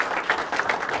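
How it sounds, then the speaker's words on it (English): An audience at a VA seminar claps in a steady round of applause, a dense wash of hand claps at moderate level with no pauses. "Round of applause"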